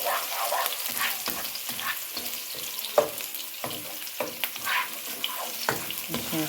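Onions fry in a pan for fried rice, a steady crackling sizzle with irregular scraping and stirring clatter running throughout.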